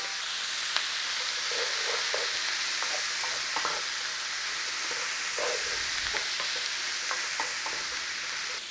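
Potatoes frying in a pan with onions and garlic for an Italian sausage and polenta casserole, giving a steady close sizzle with occasional scrapes and clicks of stirring throughout.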